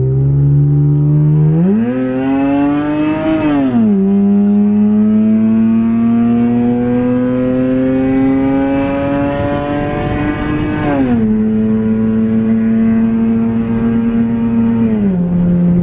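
Lexus IS200 with a new mid-pipe exhaust accelerating hard onto a freeway, a loud, steady engine drone that rises in pitch through the gears with brief dips at each shift, close and continuous.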